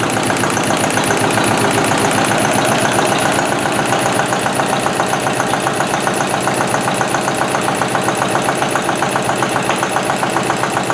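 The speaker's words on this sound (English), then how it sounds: "octane engine operates at 900 RPMs" An octane rating test engine runs steadily at 900 RPM, its loud, even mechanical chugging and knocking sustained for the whole stretch with no pauses or talk.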